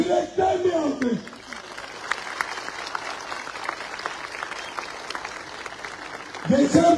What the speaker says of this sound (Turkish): onları ikna edecek olanlara yürekten bir alkış